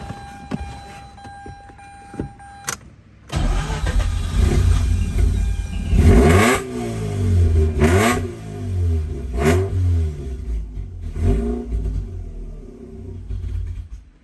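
A Mazda RX-8 rotary engine running in a garage with the mass airflow sensor disconnected, a loud rough rumble that surges and wavers unevenly, as if struggling to stay running.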